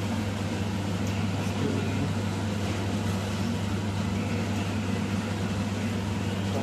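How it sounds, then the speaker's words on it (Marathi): A microwave oven runs with a steady, even hum and whir, constant and moderately loud throughout, while onion-and-rice dum biryani is being prepared in a home kitchen, with no speech over it. "तू ओव्हन टाक 2 मिनिटं."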